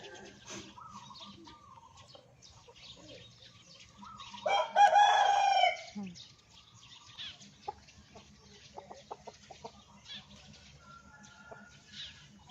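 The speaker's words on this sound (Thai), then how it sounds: "เมื่อกี้ไก่" Outdoors, a rooster gives one loud, drawn-out crow partway through, set against quiet background ambience with faint clucks and small clicks.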